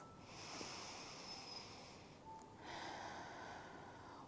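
Slow, deep breaths drawn in and let out during a seated yoga shoulder stretch, a soft airy inhale followed by a longer exhale, close and quiet with no talking.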